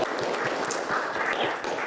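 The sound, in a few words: applause for a classmate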